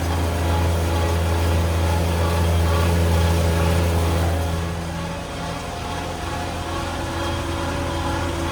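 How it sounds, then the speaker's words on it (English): A Fendt tractor engine drones steadily and loudly at close range during a silage harvest in a heavy grass crop, with a strong low hum that eases slightly partway through. "Lovely driving this tractor."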